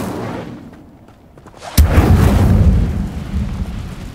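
Incendio fire spell cast in the game Hogwarts Legacy: after a quiet start, a sudden sharp burst erupts into a loud, sustained roaring whoosh of flame that lingers and slowly fades.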